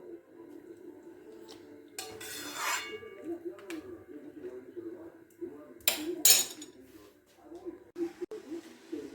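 A metal lid clinks and rattles onto a cooking pot of papaya chutney in a couple of short, bright bursts, with quieter kitchen clatter and a person talking in between.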